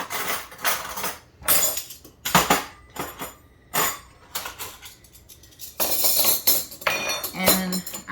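Long metal spoons clink and clatter in bursts while kitchen drawers are sorted, several separate jangles of silverware close by, with pauses in between and no talk.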